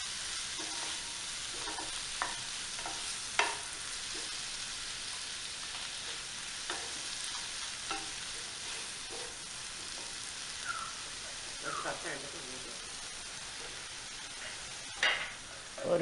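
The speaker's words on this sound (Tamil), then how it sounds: "போட்டு நல்லா வதக்கணும். தொக்கு பதத்துக்கு வரும் வரைக்கும் நம்ம வதக்கி விடணும்." Tomato mixture with salt for tomato rice sautés in a pan with an even, continuous sizzle, punctuated by scattered spoon scrapes and taps over a long stretch, close and moderately quiet.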